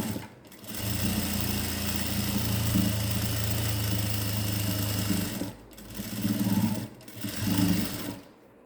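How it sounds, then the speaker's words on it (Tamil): Sewing machine stitching a blouse side seam, running steadily for about five seconds, then two shorter bursts of stitching with brief pauses between, close and loud. "மூணு ஸ்டிச்சு போடுங்க சுற்றியே ஸ்ட்ரைட்டாக ரெண்டாவது தையலும் நான் கொடுத்தாச்சு"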